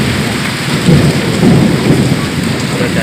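Heavy rain pours down at night during a thunderstorm, a dense close hiss of drops on surfaces with low rolling thunder swelling beneath it, loud and unbroken.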